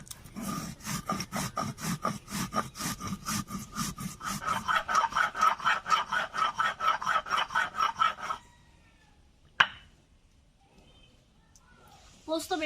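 Soaked poppy seeds are ground by hand on a stone into a fine paste, making a steady back-and-forth rasping rhythm, close and loud, that stops abruptly, leaving a single sharp knock.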